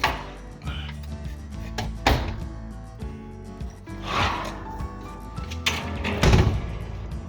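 Someone closes the plastic door of an air filter compartment with several clunks and thuds, close to the microphone amid handling noise.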